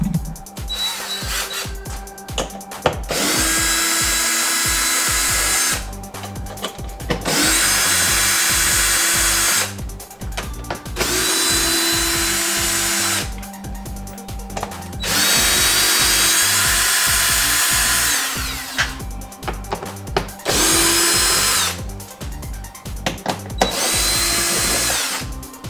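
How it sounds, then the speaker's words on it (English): Power drill spinning out 7mm bolts from a Ford F250 front door panel, several loud whirring bursts of a few seconds each separated by short pauses, close up with no talking. "What we're gonna end up doing is removing 7mm bolts."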